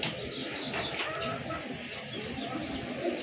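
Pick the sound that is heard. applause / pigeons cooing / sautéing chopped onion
pigeons cooing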